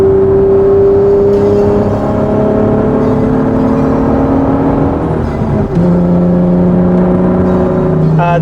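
A 1991 right-hand-drive Japanese-market Honda NSX with a 3-liter V6 and VTEC, heard from inside as the engine pulls and climbs in pitch, then drops back after a gear change, loud and close.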